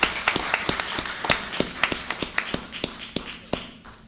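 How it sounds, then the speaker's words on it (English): Scattered, fairly sparse clapping from a small council-meeting audience in a hall, individual claps landing in an uneven rhythm for about four seconds without any talking. "I would ask you to all join me in a round of applause for the people that I just mentioned"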